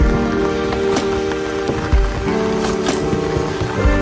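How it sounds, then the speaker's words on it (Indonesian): Heavy rain pours steadily on a surface during a nighttime storm with thunder around, a dense continuous patter with occasional louder drops and thumps, close and constant throughout. "so hujan ya hmm, besar hujannya besar"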